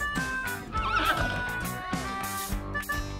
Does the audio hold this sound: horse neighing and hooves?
yes